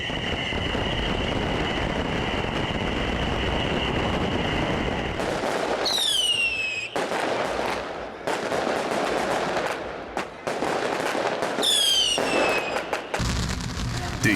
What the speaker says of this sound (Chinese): 万千支烟花瞬间齐发，现场一片火树银花